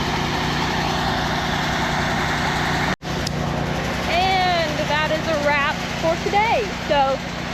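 A truck engine idles steadily while the truck is loaded with corn pushed from sumps, a constant low rumble with a brief dropout partway through and a voice talking over the second half.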